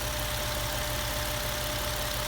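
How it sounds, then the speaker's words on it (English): Steady, smooth idle of a 2010 Jeep Wrangler Unlimited Rubicon with a 6-speed and 70k miles, a close, even low rumble with a constant hum and no voices. "This engine idle is very smooth compared to most of them"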